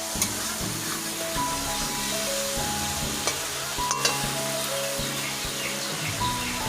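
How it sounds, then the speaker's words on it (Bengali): Masala spice paste frying in a pan, a continuous close sizzle with light scraping stirs and small clicks running throughout, no voices. "মশলাটা হয়ে গেল কষানো"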